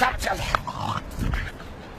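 A dog growls and grunts in short, rough bursts at close range, mixed with a person's agitated voice and some scuffling noise.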